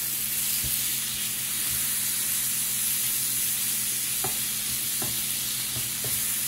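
Shrimp, scallions and peppers sizzle steadily in a hot pan, a constant loud frying hiss broken by a few scraping knocks as the food is stirred around.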